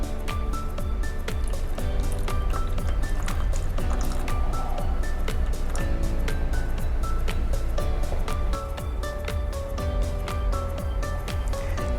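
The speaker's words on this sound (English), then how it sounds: "Dilute the primer with 3 parts of clean water." Clean water pours steadily to dilute Pentens T-007 cement modifier waterproofing primer, a continuous close liquid gurgle and splash with irregular dripping hits throughout, loud and with no talk.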